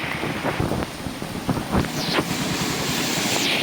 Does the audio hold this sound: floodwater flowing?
yes